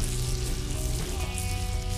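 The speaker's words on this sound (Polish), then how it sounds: "a boczek natłuszcza trochę blachę, co się przyda w smażeniu" Close, continuous sizzle of bacon frying on a heating metal plate over campfire embers, a steady hiss flecked with small crackles and no voices.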